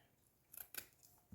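Scissors snipping through a sock being made into a small elf: two quick close cuts, soft and brief, in a quiet room.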